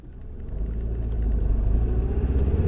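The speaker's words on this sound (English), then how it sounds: "Okay, so I'm driving up to the park now." A car driving up to a park, its engine rumbling low and steady and growing slightly louder as it moves along, heard from inside with no talk.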